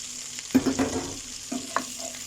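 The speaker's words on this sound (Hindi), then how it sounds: "1 मिनट के लिए इसे भी फ्राई करना है।" Spring onion whites frying in a pan for Chinese-style chicken schezwan fried rice, with soft sizzling under a few distinct stirring scrapes and taps of the utensil, fairly quiet and without talking.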